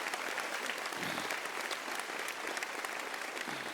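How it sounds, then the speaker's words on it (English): Audience applause at a business conference fills the room, steady and dense from many hands at moderate distance, continuing evenly with no voices over it. "Let's clap for those three"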